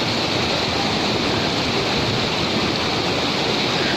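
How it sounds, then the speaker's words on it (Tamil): A small waterfall runs through the forest at Pothigai Malai on the Agasthiyar trek, giving a steady, full rushing of falling water that holds even and continuous from start to end, with no voices. "சின்ன அருவி ஒன்று போகுது"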